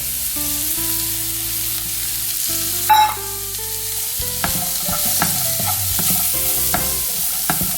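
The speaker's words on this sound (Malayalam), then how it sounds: "ഇത് രണ്ടും ഇട്ടിട്ട് കുറച്ച് നേരം ഒന്ന് വഴറ്റി കൊടുക്കാം." Carrot and sweet corn being sautéed in a pan for chicken pasta, with steady stirring scrapes and clatter over a soft background sizzle and a tonal music bed, plus one brief louder clink near the middle.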